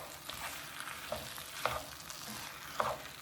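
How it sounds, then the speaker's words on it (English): Salt and pepper are stirred into a sizzling pan, with a few soft scraping strokes of the utensil over a steady, quiet frying hiss. "let's mix that all together"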